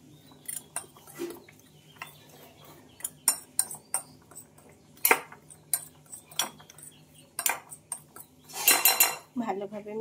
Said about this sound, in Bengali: এবার এগুলোকে একটু ভালোভাবে শুকনো অবস্থায় এভাবে মিশিয়ে নিতে হবে